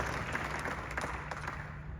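Audience applause at a Podcast Movement conference session, a steady wash of clapping held at an even level for about two seconds with no one speaking over it.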